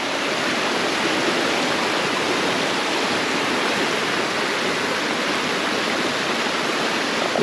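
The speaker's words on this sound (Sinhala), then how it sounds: "පේනවානේ සුන්දර වතුර පාරක්." Maliboda's Eli Hatha waterfall stream rushes over rocks beside natural bathing pools, a loud, close, unbroken roar of tumbling water with no voices over it.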